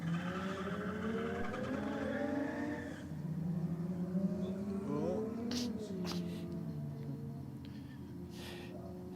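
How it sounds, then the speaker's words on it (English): A race car sitting on the line building boost, its engine droning and revving before the rear tyres start to spin, with a short squeal and crackle near the end, heard at moderate distance. "It just started to turn tyres on that thing when it started producing more boost"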